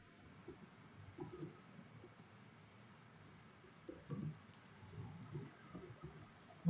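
A computer mouse clicks softly and sporadically while a simple Java application is built in NetBeans, scattered single and double clicks over a quiet room hum.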